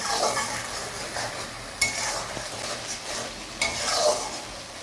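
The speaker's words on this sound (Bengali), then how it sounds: "নুন দিয়ে দিয়েছি, দিয়ে আমরা মশলাটাকে কষিয়ে নেব" Spice masala with salt is sautéed in a pan, with a continuous soft sizzle and a few sharp clinks of a spoon against the pan as it is stirred.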